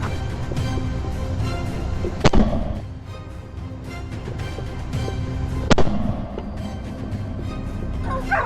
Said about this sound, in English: The gunfire spooked the boars, driving them toward the adjacent forest, but Thomas had anticipated this.